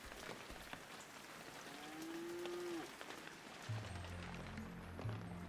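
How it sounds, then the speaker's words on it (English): Cows moo in a rural hillside scene in the video game Shenmue 3, one long low call followed by shorter ones, set against a soft patter of rain. "And a couple of cows that are just like"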